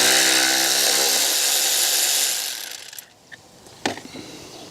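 A power tool whirs loudly and close for a couple of seconds while removing a 10mm nut from a coolant pipe bracket on a BMW, then winds down and stops, followed by a few faint metallic clicks.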